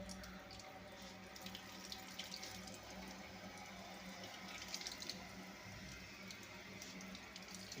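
Water runs steadily from a tap while a Daiko gas water heater is tested, a constant, even hissing flow with light splashing that stays close and moderately faint throughout, with no voices.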